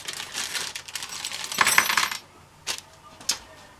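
A set of small metal Allen keys rattles and clinks as it is unpacked, a burst of jangling followed by a few separate sharp taps, close and clear.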